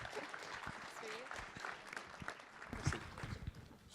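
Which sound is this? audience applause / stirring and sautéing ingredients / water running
audience applause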